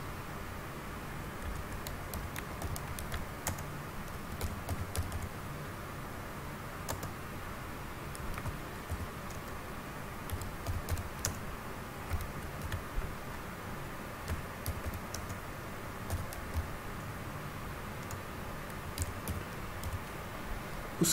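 Someone types an address into an online application form on a computer keyboard, with soft, irregular key clicks over a low background hiss and no speech.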